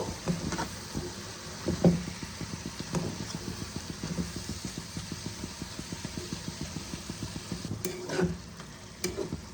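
A spatula scrapes and stirs fish head with shredded cabbage and spices in a sizzling pan, a steady rhythmic clatter of strokes close up, with a few louder knocks, and no talking.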